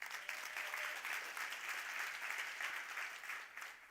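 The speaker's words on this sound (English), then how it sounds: "Big round of applause." Audience applause at a health prize finalist announcement, a steady, fairly faint wash of many hands clapping continuously for about four seconds without a break.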